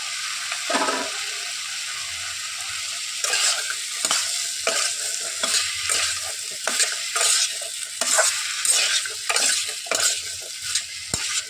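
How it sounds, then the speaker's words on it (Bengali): Potatoes being fried and stirred in a pan, with a constant crackling sizzle and repeated scraping strokes of a spatula over several seconds, fairly loud and close, without speech. "এবার আমি আলুটা দিয়ে দেবো, দিলে ভালো করে কষাবো"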